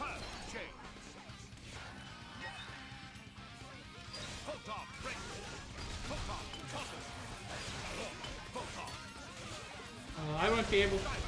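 A smash attack lands in a Xenoblade Chronicles 2 battle, its crashing impact buried in a dense wash of combat effects and music, with a voice talking over the fight.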